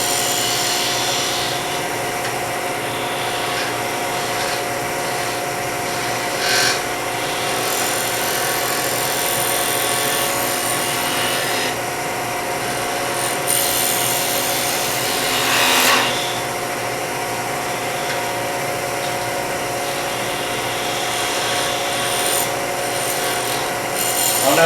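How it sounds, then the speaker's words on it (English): Steady rasping and rubbing of a detail gouge shaping wood for a ring or bracelet, continuous scraping strokes with occasional brighter bursts, fairly close and alone. "I'm going to use my detail gouge"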